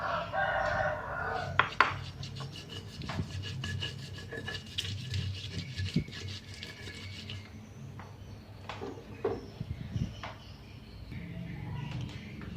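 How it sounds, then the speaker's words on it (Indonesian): Repeated rasping, rubbing strokes of a pestle grinding shrimp paste with coarse salt in a mortar, steady and close, with occasional knocks and faint background sounds. "kita ulek juga terasinya ya"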